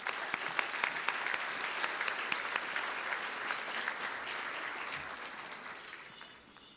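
An audience at an awards event claps in a full, sustained round of applause, dense and steady before tapering off at the end.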